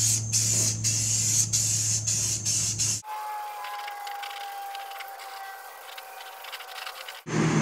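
Spray primer hisses onto the underside of a mower deck in a rapid series of short, loud, close bursts for about three seconds. A quieter stretch with a faint steady tone follows, then another hiss returns briefly at the very end.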